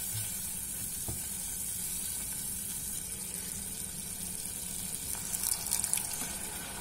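Tomato paste sauce sizzles steadily in a pan as the added water reduces away, a constant close hiss and bubbling with a few small clinks near the end.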